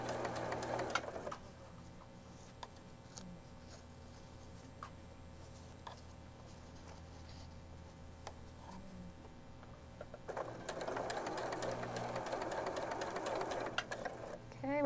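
A sewing machine stitches quilt block seams in two quick, close runs at the start and end, its rapid mechanical whir separated by a quieter stretch of handling in between.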